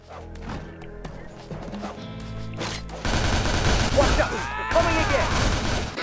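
Gunfire from Uzis and revolvers during co-op play of the Shank 2 video game: dense rapid bursts under music, louder and busier in the second half.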